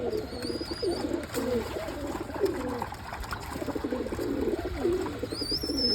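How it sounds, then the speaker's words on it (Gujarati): Pigeons gathered on a rooftop terrace in summer coo in overlapping low, throaty phrases, close and continuous across the scene, with faint high whistling tones at the start and end. "આપણા ધાબા ઉપર કેટલા કબૂતર દેખાય"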